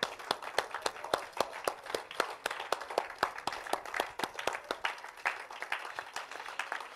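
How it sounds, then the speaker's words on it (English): Church congregation clapping hands in worship, a fairly faint but steady rhythmic beat of many hands at about three claps per second, with looser scattered claps between the beats. "Why don't you clap your hands to Jesus?"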